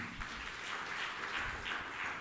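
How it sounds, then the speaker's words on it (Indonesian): Steady applause from an audience, a dense wash of clapping at moderate distance, continuous throughout with no voices. "Tepuk tangan yang meriah untuk kamu."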